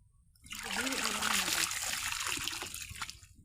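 Water splashes and trickles as mud is rinsed from freshly picked radish greens, a close, steady pouring wash lasting a few seconds before tapering into drips.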